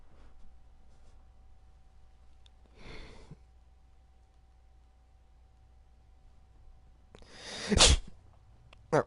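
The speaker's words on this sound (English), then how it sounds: "I should have known that was a sneeze and not just those being itchy." A single sharp sneeze breaks through near the end, loud and close, following a quieter breathy burst earlier against a faint background hum in a Dragon Age: Inquisition game scene.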